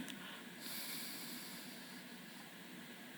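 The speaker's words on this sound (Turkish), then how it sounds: "Şimdi verdiğimiz yerden alıyoruz. Yani sağdan alıyoruz." Steady airy breathing through one nostril during an alternate-nostril breathing exercise, a continuous soft hiss of air that sounds close and fills the whole stretch without any speech.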